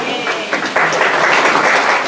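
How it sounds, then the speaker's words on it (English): Audience applause at a memorial service, a broad steady wash of many hands clapping that swells after a moment and holds, moderately loud in a hall. "But I don't have time for applause or he'll ring the bell."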